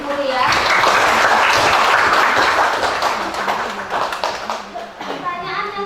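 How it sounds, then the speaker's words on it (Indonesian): Applause and clapping from a group in a school classroom, loud at first and tapering off, with children's voices chattering over it. "Kita tepuk tangan dulu ya."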